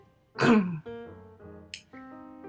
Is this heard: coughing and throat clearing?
yes